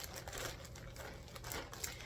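Crinkling plastic bag being handled around a knitted Cozy Memories blanket, giving soft continuous rustling and crackling with small sharper crinkles throughout, fairly quiet and close with no talking.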